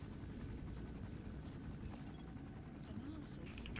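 A helicopter in the video game Metal Gear Solid V: The Phantom Pain gives off a steady, low rotor rumble and hum at modest volume, with a voice talking over it.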